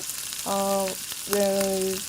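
Bitter gourd frying in hot oil in a kadai, a constant close sizzle broken by two sustained tonal hums lasting about half a second each.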